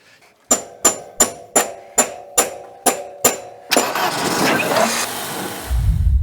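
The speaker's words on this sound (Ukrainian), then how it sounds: "А в нашому варіанті беремо молоток і хірячим по різьбі" Eight crisp hammer strikes on a metal thread land in an even rhythm, each ringing briefly, then give way to rough grinding and rumbling noise.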